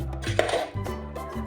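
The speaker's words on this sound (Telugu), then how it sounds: "బాగా కలుపుకోవాలి" Turmeric and red chilli powder are stirred into a pot for bottle gourd dal, producing quick metallic spoon scrapes and clinks against the vessel in a short, busy burst.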